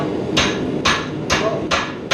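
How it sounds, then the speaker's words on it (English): Four sharp hand-hammer strikes ring out on hot metal at an even pace, close and loud, while a cheese slicer is forged on an anvil. "Now, I'm going to hammer that down."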